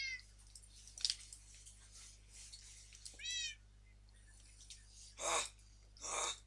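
Cat meowing in the Minecraft video game, several short high meows spread across the clip, with two louder bursts near the end, over a faint steady hum.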